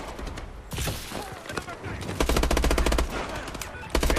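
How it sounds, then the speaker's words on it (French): In the game Advanced Warfare, a mobile turret machine gun fires rapid bursts over battle noise and explosions, the loud rattling strings repeating through the scene. "Cette tourelle mobile est toujours opérationnelle!"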